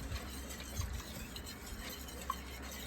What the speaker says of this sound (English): And whisk that in.